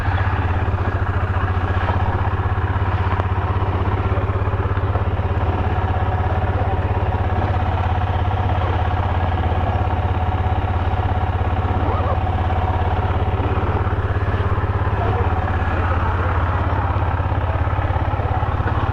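A KTM Duke 250 BS6 motorcycle idles just after servicing and an oil change, its single engine note steady and close with a faint mechanical clatter throughout.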